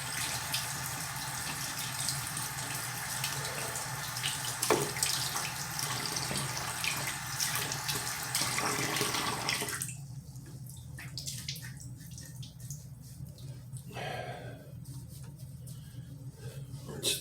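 Water runs steadily from a bathroom tap while a shaving brush is rinsed, a continuous splashing hiss that turns thinner and more spattered partway through as the flow hits the brush.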